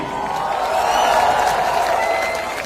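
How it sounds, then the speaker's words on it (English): A loud crowd at the Goa Cashew Fest 2025 applauds steadily, a dense wash of clapping that swells and then eases slightly. "Can we have a huge round of applause for the band"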